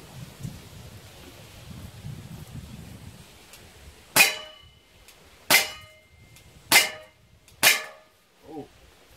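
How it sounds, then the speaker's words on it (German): An Umarex Glock 19 airgun fires steel BBs at a small can: after a few seconds of quiet outdoor background, four sharp snapping shots ring out at roughly one-second intervals, followed by a fainter metallic ping. "UX Glock 19, Stahl-BB von Umarex. 3-4 Schuss."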